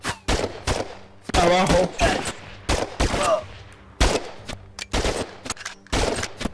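Bursts of gunfire from a co-op VR shooter, Operation Serpens on Quest 2, crack out in repeated rapid volleys over several seconds, loud and close, with people talking between and over the shots.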